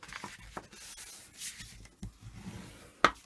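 Paper score lines on a Halloween lantern craft being folded and burnished: soft, close rubbing and scraping strokes in short bursts, ending in one sharper crisp crease sound.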